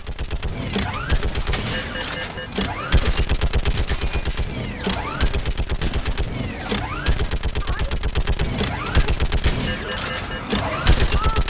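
Sustained battle gunfire in the video game Mass Effect on the planet Thessia: rapid automatic bursts and repeated shots crackling in dense waves, with mechanical clanks and shouted voices mixed into the din.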